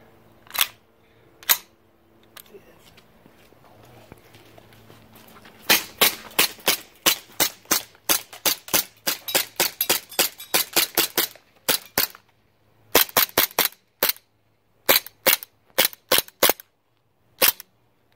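Sharp, loud shots from an ASG CZ-75 SP-01 Shadow gas blowback airsoft pistol, a few spaced single pops first, then rapid strings of snappy cracks with brief pauses, close and alone without talk.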